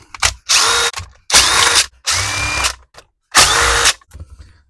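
Power driver backing out T25 Torx bolts from a Craftsman string trimmer cover, four loud close bursts of whirring with short pauses between them, plus faint clicks.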